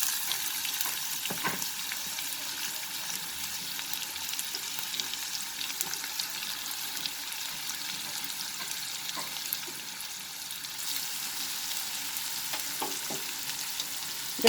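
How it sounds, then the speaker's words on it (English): Chopped onion sautéing in a pan for aloo bathua saag, a steady broadband sizzle throughout with a few faint clicks of stirring, close and even in loudness, no voices. "And now the chopped onion."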